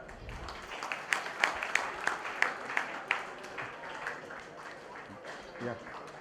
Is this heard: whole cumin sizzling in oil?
no